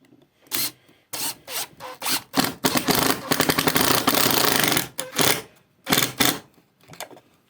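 A screwdriver drives a screw into a pocket hole joint made with a Trend pocket hole jig, giving a burst of close, loud scraping and rasping strokes, then a denser grinding run, with short separate turns at the start and end.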